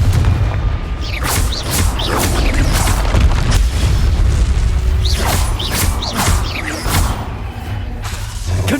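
Repeated Confringo fire spell explosions from Hogwarts Legacy, a loud run of booming blasts and whooshing bursts spread across the clip, each hitting sharply over a dense, rumbling battle background.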